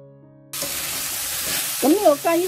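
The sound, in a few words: courgette and chicken strips stir-frying in wok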